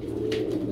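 A fancy grey bar lace pigeon gives one low, soft coo. It sounds close and rises alone above a quiet steady background hum, with no talking.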